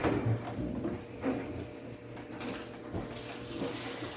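Tap water runs steadily into a kitchen sink as hands are washed, a continuous close splashing hiss with slight shifts as the hands move under the stream.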